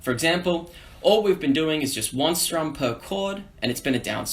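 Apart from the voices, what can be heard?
No everyday noises stand out.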